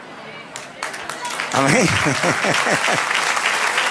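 Applause from a church congregation begins softly and then swells into sustained clapping, while a voice speaks and calls out over it near the start.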